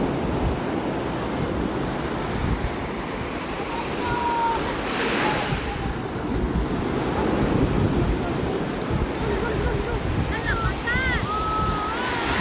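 Sea waves wash onto a beach in Elyu in a steady broad rush, with wind buffeting the microphone and brief faint tonal calls or whistles near the end.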